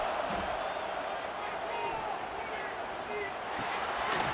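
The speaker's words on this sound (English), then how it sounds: "Decibels rising as the crowd gets behind this defense on third down." A stadium crowd at a preseason AAF football game roars steadily on a third down, a dense wash of cheering and shouting that swells slightly toward the end, with faint announcer talk underneath.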